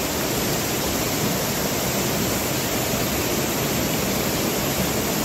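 Steady, full-bodied roar of a small hidden waterfall in the Konkan during the monsoon, a dense unbroken rush of falling water close by, constant in level throughout with no voices.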